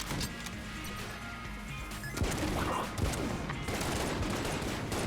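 Video game gunfire in Enter the Gungeon: a dense, continuous barrage of rapid shots and crashing impacts, loud and close, with a sharper burst of hits partway through and steady firing after.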